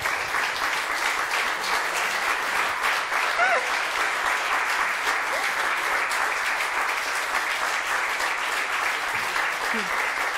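A studio audience on a Turkish daytime TV show applauds steadily for about ten seconds, a dense, even wash of clapping that holds its level throughout.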